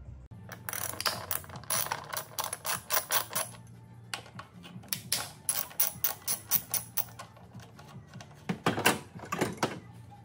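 A ratchet wrench loosens 10 mm bolts on a Honda Civic engine during an oil-leak gasket replacement, giving fast, crisp clicking in repeated bursts with short pauses between strokes, close and clear with no talking.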